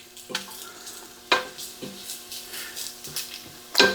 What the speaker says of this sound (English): I'm going to add the green onions to this and let them go ahead and be sauteing.